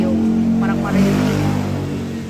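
Motorcycle engines rumble and rev loudly up close as bikes pass by on a street in Dumaguete, Philippines, with a voice briefly heard under the noise.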